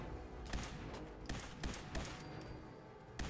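Gunfire in the video game Fallout 4: several sharp shots ring out at irregular intervals over a loud, noisy battle backdrop.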